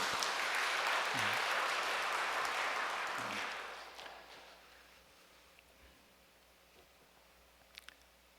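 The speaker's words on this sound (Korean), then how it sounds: "정말 함께 해주신 독생의 참어머니께 다시 한번 감사의 박수를 보내올리겠습니다" An audience at an evening religious gathering breaks into loud, dense applause that lasts about four seconds, then quickly fades into near silence with a few faint scattered taps.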